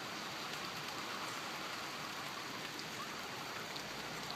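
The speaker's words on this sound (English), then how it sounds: "You like the rain, huh?" Rain falls steadily outdoors, a faint, even patter and hiss with no other sounds standing out.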